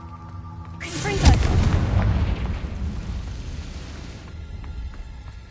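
A Confringo fire spell erupts in Hogwarts Legacy, a loud booming blast at about one second that rolls into a sustained roaring burn lasting several seconds before fading, with no talk over it.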